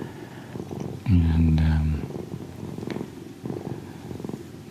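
Witford the cat purring close up, a deep rumbling purr that swells loudly for about a second amid softer rustling, with a brief spoken word at the start and faint breathy background.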